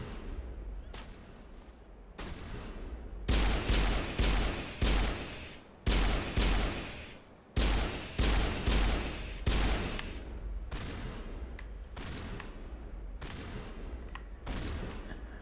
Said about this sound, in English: Manova is under coordinated crossfire